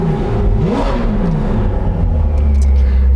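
A Ferrari engine revving with its exhaust flaps open, a loud, close rising roar that climbs, falls back and holds a deep steady rumble, with no talk.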